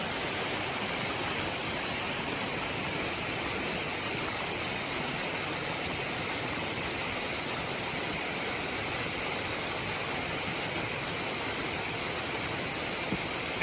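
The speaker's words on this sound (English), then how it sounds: "And there's the water course right here." Water runs down a stretch of the Appalachian Trail that doubles as a watercourse, a steady, even rushing wash that holds constant throughout with no voices.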